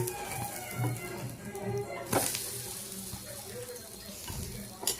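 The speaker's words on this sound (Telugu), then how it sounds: "వడపిండితో ప్యాన్ మీద వడ వేసాను. మిడిల్లో హోల్ కూడా పెట్టి అందులో ఆయిల్ వేస్తున్నాను." Urad dal batter vadas sizzling in oil on a pan, a steady low crackle and hiss with a few sharper spits, faint throughout.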